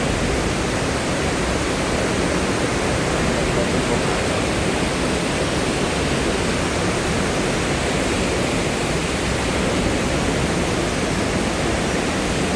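Waterfall at Tat Chao Wa in a forested mountain area, a dense continuous roar of rushing water, loud and unchanging, with someone speaking faintly under it.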